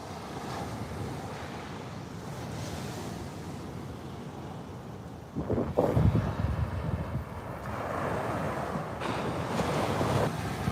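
Ocean surf rolls in at a beach under steady wind buffeting the microphone, a continuous roar that swells with a louder wave crash midway and stays full to the end.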